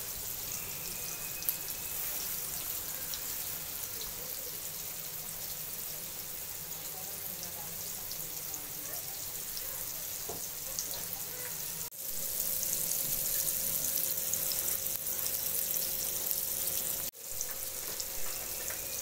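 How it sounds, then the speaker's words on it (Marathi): Surmai fish sizzles steadily on a full iron griddle pan, a continuous crackling fry that grows slightly louder midway, with faint clinks in the background. "असा तवा भरून मच्छी आपण फ्राय करायला ठेवले आहे."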